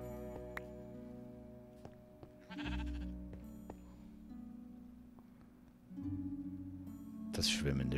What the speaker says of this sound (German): Das schwimmende Schaf.